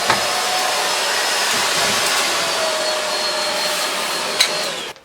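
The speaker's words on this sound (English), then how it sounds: "that is the first look at this Pure One cordless cleaner" A Tineco Pure One S12 cordless vacuum cleaner runs with a loud, steady, close whine and rushing airflow, then cuts off abruptly at the end.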